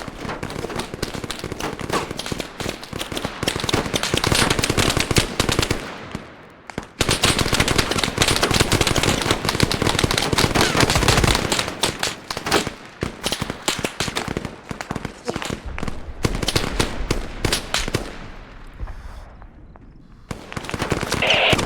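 Dense, sustained automatic gunfire and rapid shots in an Arma firefight on Altis, loud and continuous with brief lulls, close bursts layered over distant crackling fire.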